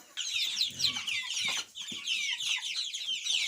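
Farmyard chickens cluck busily up close while pecking at spilled feed, a dense, continuous chorus of overlapping calls with a brief pause midway.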